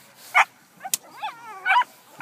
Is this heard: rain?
no